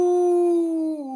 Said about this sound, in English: Suddenly, a dog bayed in the wood